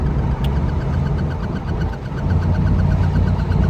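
Low, steady engine rumble from a 1984 Buick Regal fitted with hush mufflers, a mellow continuous throb heard from inside the car, fairly close and even, with no talking.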